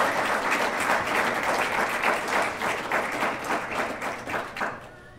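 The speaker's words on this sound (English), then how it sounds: "Can I have a huge round of applause," An audience gives a round of applause at a charity fundraising event, dense steady clapping from many hands, fairly loud at first and fading toward the end, with no talk over it.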